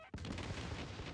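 Gunfire from a turret or rocket launcher strikes in a video game, a sudden loud burst after a brief quiet, then a sustained rumbling barrage of close shots and booms that fills the rest of the moment.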